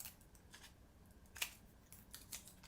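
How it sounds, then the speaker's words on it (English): Scissors cutting half-inch Velcro dots, a handful of crisp close snips spaced irregularly, quiet with no voices. "We'll cut another one."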